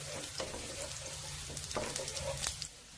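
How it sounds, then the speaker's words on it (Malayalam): Raisins sauté in ghee in a frying pan, making a soft continuous sizzle with brief scraping stirs heard close and quiet. "എന്നിട്ട് അത് നമുക്ക് ഈ നെയ്യിലൊന്ന് വഴറ്റിയെടുക്കാം."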